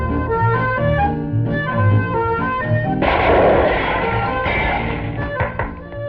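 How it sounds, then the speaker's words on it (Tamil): A gunshot fired at a doll in an old Tamil film: one sharp, loud report bursts out over orchestral music and rings briefly before the score carries on. "எங்க இந்த பொம்மையை சுடு பார்க்கலாம்"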